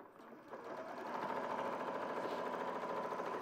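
A sewing machine stitches over a seam, its motor rising from a soft start into a steady, close, evenly pulsing whir that runs without a break and carries no talk.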